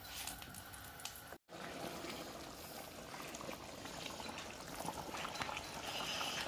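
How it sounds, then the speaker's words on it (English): Spanish rice boils in a pot on the stove, giving a steady close hiss and bubbling wash that runs almost the whole time, broken once by a split-second dropout early on. "Kind of let that bubble and cook and boil."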